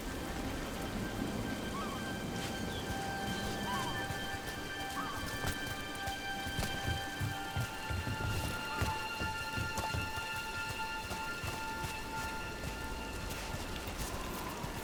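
Steady rainfall in the Dragon Age video game, a soft even patter on surfaces with faint distant rumbles and occasional light tonal cues, no talking.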